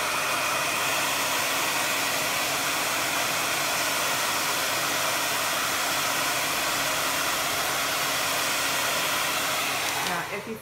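A hair dryer blowing steadily on wet paint on paper, a loud, close, continuous whoosh that runs unbroken and cuts off at the very end.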